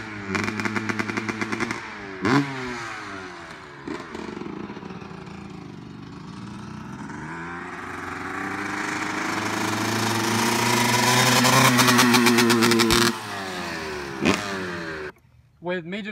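A Honda CRF dirt bike engine idles, then the throttle rolls on and the revs climb into a long, strained, bogging drone before dropping back, loud and close, with no talking over it.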